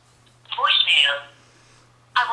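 A phone call to voicemail heard over a Droid X or EVO 4G smartphone's speakerphone: a faint tone, then a tinny automated voice speaking, and a burst of speech at the end.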